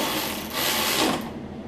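Ratchet hand tool tightening intake bolts on a Briggs V-twin engine of a Cub Cadet zero-turn mower, a quick close run of rapid clicking from the pawl, steady and alone.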